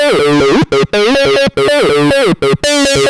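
A distorted 303-style bass synth plays a looping pattern of squelchy, gliding notes, loud and buzzy with short gaps between phrases.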